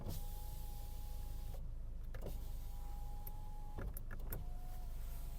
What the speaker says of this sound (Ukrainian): підйомники працюють в всіх режимах, максимум донизу